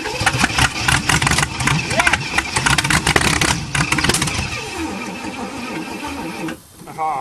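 An old Chevy engine being cold started with choke and pedal pumping, loud churning and sputtering engine noise with repeated cranking bursts running nearly throughout, briefly dropping off near the end.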